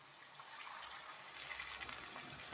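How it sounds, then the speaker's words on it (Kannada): Water being poured into ground masala in a pan while cooking capsicum masala: a faint, close splashing gush that swells partway through, with no voices. "ನೀರು ಹಾಕ್ತಾ ಇದ್ದೀನಿ."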